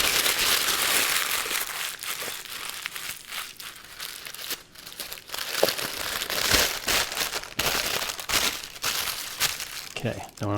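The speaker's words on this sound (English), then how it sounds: "Crumple it up." Parchment paper crumpled by hand while baking bread in a Dutch oven, a close, dense crinkling and crackling that runs steadily for about ten seconds, with some quieter pauses and short bursts.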